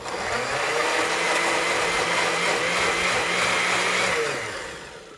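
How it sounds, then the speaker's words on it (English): A kitchen blender whirs steadily, blending scooped-out tomato insides for a sauce as part of an Indian cooking dish, a loud continuous motor drone that fades slightly near the end. "Firstly, let's blend it all up."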